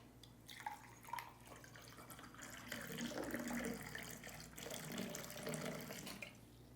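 Water is poured to serve a drink, a faint continuous trickling and splashing stream that swells in the middle, heard alone without talk.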